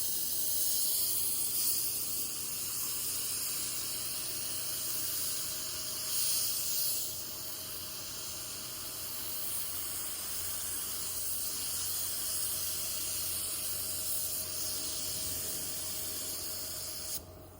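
A spray gun lays a base coat of candy blueberry paint onto the side of a 1984 Chevrolet C10 truck, a steady close hiss running almost unbroken with a low compressor hum beneath and no talk.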